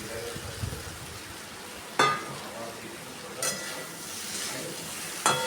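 Fried okra, potatoes and spices sizzle in a pan under a constant soft hiss, while a spatula knocks against the metal three times in sharp, spaced clinks.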